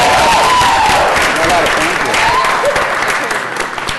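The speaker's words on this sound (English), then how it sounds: "Let's give her a big round of applause." Audience applause fills a Los Angeles city council meeting chamber, a steady dense wash of clapping that tapers slightly toward the end, with voices and cheers mixed into the crowd noise.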